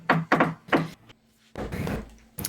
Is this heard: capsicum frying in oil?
no